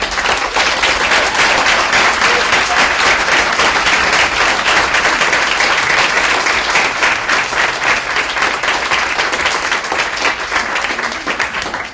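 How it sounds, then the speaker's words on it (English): An audience at a college student senate meeting breaks into loud, sustained applause, a dense wash of many hands clapping close by that holds steady for the whole stretch with no talking. "let's give them a round of applause"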